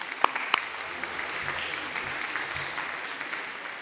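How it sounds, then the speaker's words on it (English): A church congregation at a Sunday service applauds two newly baptized candidates with steady, moderate clapping that carries through the whole span, a couple of sharper claps standing out near the start. "One more round of applause for those two people."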